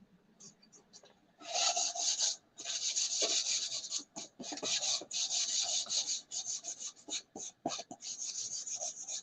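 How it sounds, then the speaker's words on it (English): Wood is hand sanded with fine 600 grit sandpaper to smooth raised fibers, producing steady, close back-and-forth scratchy strokes in long runs with brief breaks. "I just want to sand down the fibers, so I'm going to change it to a 600."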